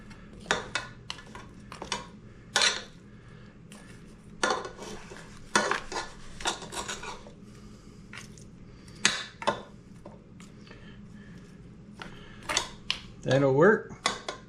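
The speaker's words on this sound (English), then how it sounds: "mix everything together best you can. Try to get that seasoning all over the neck bones." Pork neck bones and potatoes are tossed with seasoning in a pan, giving repeated close clinks and scrapes of a utensil against cookware in uneven bursts, with a brief low vocal hum near the end.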